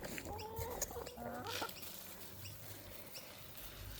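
Chickens being fed give soft clucks and pecking patter at low volume over a quiet outdoor background, with a few faint chirpy calls early on.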